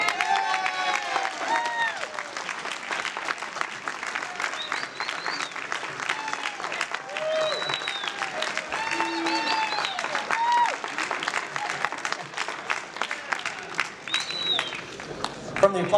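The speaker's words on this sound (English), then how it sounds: "From the applause, it sounds like many of you here do know Steve" Dense audience applause at a 2023 award presentation fills the room steadily throughout, with scattered whoops and a few voices mixed into the clapping.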